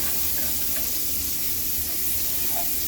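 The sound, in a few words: margarine sizzling while being stirred around a frying pan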